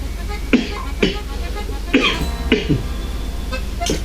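Several separate coughs, roughly evenly spaced, sound over a steady low hum, loud and close.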